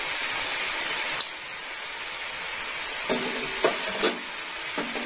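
Shredded cabbage with poppy seed paste frying in a pan, a constant hissing sizzle broken by a few light scrapes and taps of a stirring spoon.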